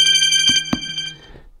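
Sony WH-1000XM4 headphones play an incoming phone call ringtone, a loud, close electronic ring with sharp tonal pulses that decays and fades out toward the end, with no one speaking.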